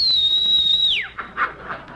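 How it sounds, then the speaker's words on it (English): A person whistles one long, steady high note that glides sharply downward near the end, clear and close, followed by faint room noise. "Why did you whistle?"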